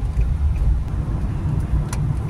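Steady low engine and road rumble from a 2005 Nissan Altima cruising after a fix for sluggish performance, heard from inside the car as an even, continuous drone with no talking.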